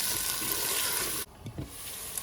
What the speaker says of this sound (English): I'm frying them